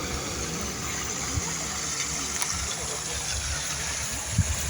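Water pours through an irrigation channel that feeds paddy fields, a steady close rushing and gurgling flow with a low, engine-like hum underneath.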